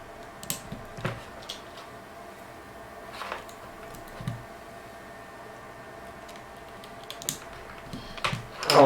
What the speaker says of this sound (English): I'm not really good or fast at typing